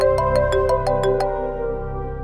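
A phone ringtone plays alone as a quick series of bright, repeating electronic chimes, fairly loud and close, carrying on for a couple of seconds.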